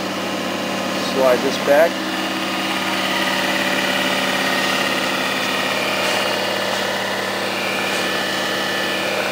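A Rong Fu-31 belt-drive mill drill with adjustable pulleys runs quietly in forward, giving a steady low motor hum and whine throughout, with someone speaking briefly over it.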